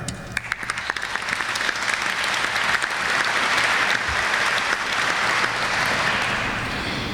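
An audience claps at a festival committee introduction, the applause building from scattered claps into a dense, sustained ovation that holds steady throughout, with no talk over it.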